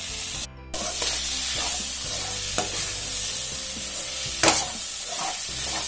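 Okra fry (vendakkai varuval) stirred in a pan with a steady sizzle of frying, broken by a few scraping stirs and a brief louder clatter near the end, close up with no talk.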